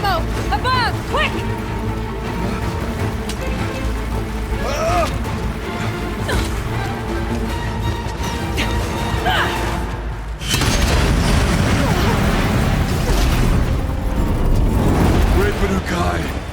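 Heavy booms and crashing blasts from explosive ammo in Horizon Zero Dawn, loud and continuous over a dense game soundscape, with the rumble swelling after the first ten seconds and voices mixed in.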